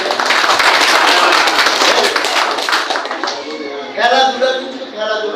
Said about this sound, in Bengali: এদের জন্য জোরে একটা করতালি দিতে